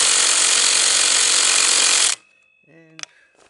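A power tool loosens 14 mm wheel nuts on a Yamaha Warrior 350 ATV in one loud, continuous rattling whir of about two seconds. It stops suddenly, then a short voice sound follows in the quiet.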